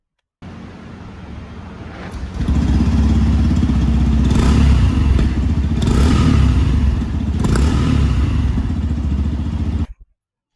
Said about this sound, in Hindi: उससे पहले मैं आपको बाइक का एक बार एग्जॉस्ट नोट चेक करा देता हूँ।